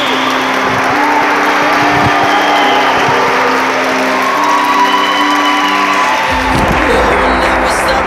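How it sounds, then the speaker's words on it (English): Wedding guests at a ceremony break into sustained applause with scattered cheers and whoops, a dense crowd sound continuing throughout, with music underneath. "How about a wonderful round of applause?"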